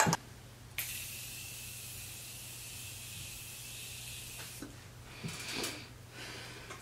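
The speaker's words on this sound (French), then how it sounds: "je vais mettre un spray juste pour enlever l'effet poudreux" Short hissing bursts of a cosmetic setting spray misted onto a face, a sustained spritz near the start followed by a few brief puffs, close and fairly faint.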